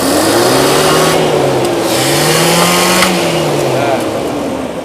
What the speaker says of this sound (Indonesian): Coba kita tarik gas secara spontan. Sayangnya knalpotnya bocor, agak berisik.